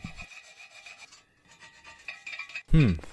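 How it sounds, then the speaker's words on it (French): A hand-held wire brush scrubs over a welded stainless steel cross, a close scratchy rasping in short uneven strokes, with a quiet gap midway and a sharper loud scrape at the end. "je vais repasser un coup de brosse métallique partout"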